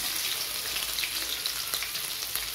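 Steady, dense sizzling of crushed ginger and garlic frying in hot oil, close and continuous with faint crackles throughout, no voices.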